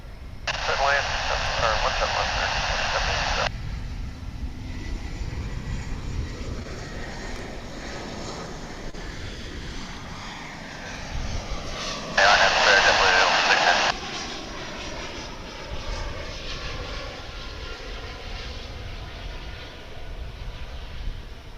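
Airliner jet engines roar steadily at the Dallas/Fort Worth International Airport runway, a loud sustained wash of engine noise throughout, with someone talking over it and two bursts of radio chatter cutting in.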